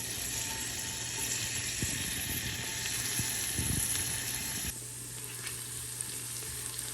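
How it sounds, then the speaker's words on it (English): Onions fry in a pot with a quiet, steady sizzle, joined partway through by a few soft clinks and stirring scrapes, and no one speaks. "While the onions are getting brown"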